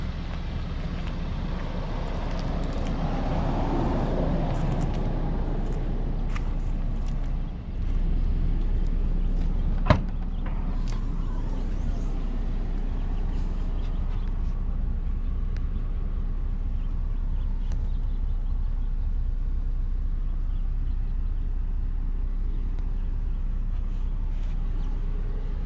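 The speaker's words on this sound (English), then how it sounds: "Today we're going to take a quick spin of the 2024 Volkswagen Taos SE" A 2024 Volkswagen Taos SE compact SUV cruising produces a steady low road and engine drone from inside the cabin, with a brief dip and a sharp click partway through, continuous and unbroken by speech.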